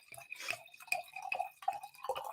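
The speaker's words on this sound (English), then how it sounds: "So I'm going to go ahead and pour up." Champagne, kiwi liqueur and white wine poured into a glass, a series of short splashing, dripping bursts repeating every half second or so, close and fairly quiet.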